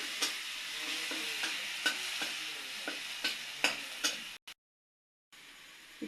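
Potatoes for vegetarian aloo dum fry in a pan, stirred in regular scraping strokes with sharp taps over a soft sizzle, then a brief total silence before the frying hiss resumes.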